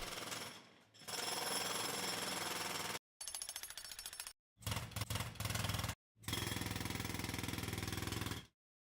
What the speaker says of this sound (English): Let's grab this jackhammer sound here.